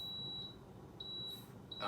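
A Power XL air fryer gives short electronic beeps as its timer buttons are pressed, three quick thin tones spaced apart over a low room hum.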